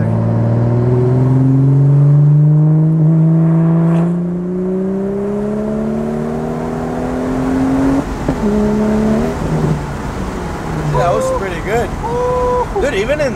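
BMW 435i Stage 2 with MHD anti-lag, accelerating in third gear on a street; a loud engine drone rises steadily in pitch, then eases off with crackles and pops, while people talk over it inside the car.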